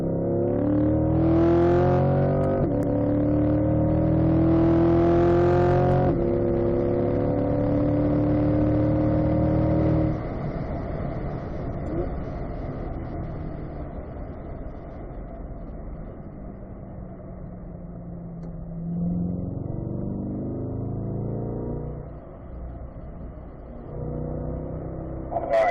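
Corvette on a racetrack, its engine roaring loud and close as it climbs through the gears with repeated rising pitch sweeps, then settling into a steadier drone at higher speed.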